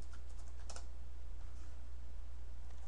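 Soft, rapid keystrokes clatter on a computer keyboard during Java programming in an IDE, faint under a steady background hiss.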